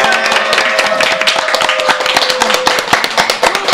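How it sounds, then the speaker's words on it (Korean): A studio audience claps on cue at the start of a Korean psychology counseling talk show, brisk dense clapping with a tonal music bed underneath, steady and fairly loud. "박수!"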